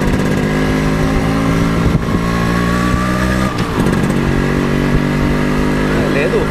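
A motorcycle on a test ride, recorded from a helmet chin mount, gives a loud, steady engine drone with wind rush and a couple of brief bumps.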